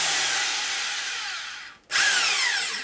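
A power drill whirs loudly at high speed, stops briefly, then spins up again at full speed.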